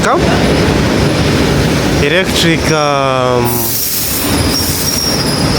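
A Russian electric train rumbles past loudly, with wheels squealing in a rising and falling whine over steady rail noise.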